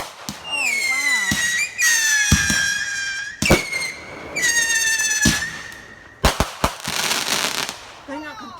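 Fireworks from a hooked-together chain set off one after another, loud close pops and crackles with whistling, squealing rockets rising between bursts, while people exclaim over them.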